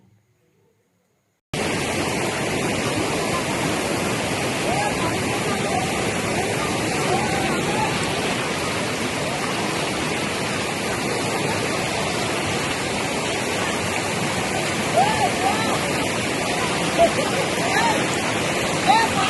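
A steady, loud rush of flowing river water fills the scene after a brief silent start, continuous broadband noise like a fast current or small cascade, with no voices heard.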